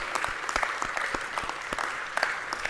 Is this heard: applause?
yes